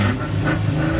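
A Jeep Cherokee's engine revs hard in reverse while stuck in sand, its wheels digging in; a loud, steady, strained roar sustained throughout with no let-up.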